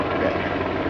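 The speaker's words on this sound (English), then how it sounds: "U.S. Coast Guard helicopter" A U.S. Coast Guard helicopter thuds overhead at Torrey Pines State Beach, its rotor chop loud and steady for a brief moment.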